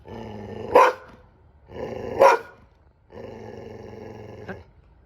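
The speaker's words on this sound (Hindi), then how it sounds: "कुत्ते को देखो, जब भी यहाँ छत पे बैठो इतना भौंक रहा है।" A dog growls low and rumbling, breaking twice into a sharp bark, then holds a long sustained growl; close and fairly loud.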